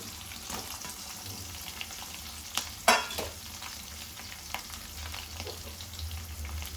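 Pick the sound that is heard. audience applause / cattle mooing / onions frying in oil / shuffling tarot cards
onions frying in oil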